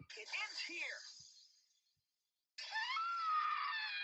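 Two loud, strained screams from the video game Danganronpa V3 are separated by a second of silence; the first wavers and fades, the second is held high and steady.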